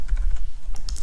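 Typing on a computer keyboard, a quick run of light clicking keystrokes close up, with no speech.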